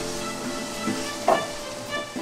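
Salted onions frying in a pan until brown give a soft, steady sizzle, with a couple of brief scraping stirs breaking through close by; no voices.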